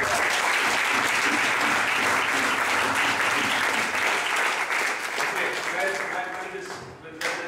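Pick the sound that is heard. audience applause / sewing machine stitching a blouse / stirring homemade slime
audience applause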